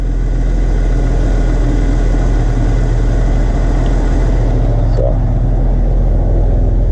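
Steady, smooth idle of a Willys truck's six-cylinder 4-liter engine in a restomod build, a continuous low rumble heard close and fairly loud with no talk.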